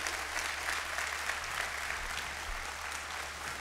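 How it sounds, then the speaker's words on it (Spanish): A church congregation applauds during a sermon, a continuous even wash of clapping, moderately faint and sustained without a voice over it. "Puedes dar un aplauso al Señor porque tienes una fe con razón."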